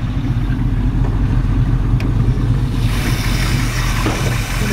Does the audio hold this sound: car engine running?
yes